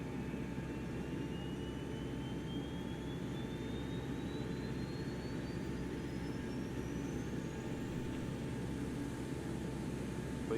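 Simulated Boeing 727 freighter jet engines run as a steady, loud broadband roar with a constant whine, a slowly rising tone sweeping across the whole stretch, no voices over it.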